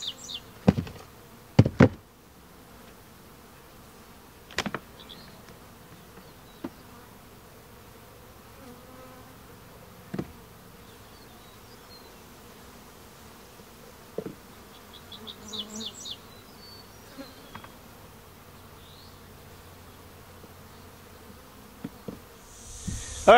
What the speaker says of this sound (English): All right, so we got thousands of bees in here. They're cleaning up this honey